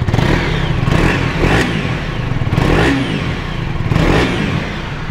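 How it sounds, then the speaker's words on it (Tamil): A 2025 KTM 250 motorcycle with an underbelly exhaust revs loudly up close in repeated blips over a throbbing idle, without talk. "வண்டியோட பீட் எப்படி இருக்குதுன்னு பாருங்கள்"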